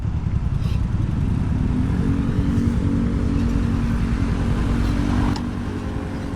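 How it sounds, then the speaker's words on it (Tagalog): A motorized tricycle runs alongside a Yamaha Fazzio scooter on an early-morning road, giving a steady, loud engine drone with road rumble throughout that eases slightly near the end. "may katabi na tayong tricycle"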